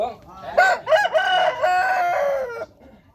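A rooster crows once, a loud, close, drawn-out cock-a-doodle-doo with a rising start and long held ending, amid faint farmyard background and no talking.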